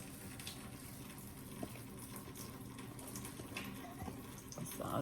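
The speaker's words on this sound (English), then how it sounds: "See, y'all, I'm just putting water." Water poured steadily from a tap or container while cooking vegan soul food, a continuous rushing splash that runs the whole time with faint kitchen clatter underneath.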